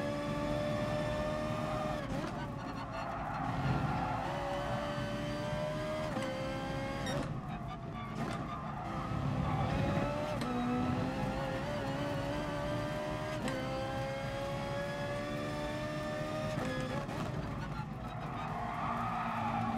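A Ferrari race car on worn tyres in the GT Sport racing game, its engine droning steadily with gear-change dips and tyre squeal throughout, while a person comments over it.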